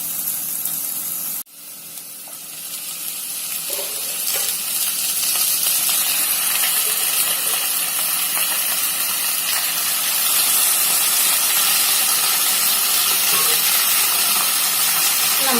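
Chicken pieces dropped into a pan of frying pepper masala set off a sudden steady sizzle and hiss that swells and holds loud for several seconds, with no talking.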